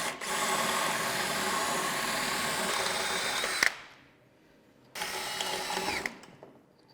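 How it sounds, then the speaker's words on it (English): Power drill with a 3/16 bit drilling out rivets on the bottom of a bulkhead for a Polaris 850 bumper install, with a loud, steady close whine for several seconds, a brief pause, then a second shorter burst. "with the 3/16 bit, I'm going to drill out the rivets that go on the bottom of the bulkhead"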